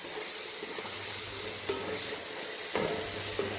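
Chicken fries in a pan for biriyani, with garlic and ginger added earlier, hissing in a steady sizzle as a utensil stirs it, giving a few sharper scraping clacks.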